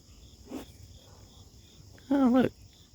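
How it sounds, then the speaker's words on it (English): A yellow jacket wasp hovers around food such as a Krispy Kreme doughnut, cheeseburger and Twinkie, giving a faint short buzz and then a louder, wavering buzz for about half a second as it passes close. "That's a yeller jacket"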